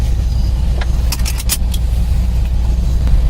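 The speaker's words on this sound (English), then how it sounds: "So I have to put this truck to work now and get on the road." A Chevrolet truck being driven on the road, with a steady low engine and road rumble throughout and a few brief higher clicks or rattles near the middle.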